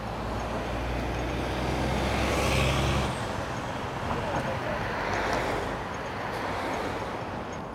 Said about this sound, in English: Does it picks up quite a lot of traffic noise